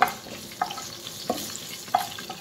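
Onions fry in a pan for cabbage curry, a soft steady sizzle broken by a few sharp stirring scrapes and taps of a utensil against the pan, with no talking.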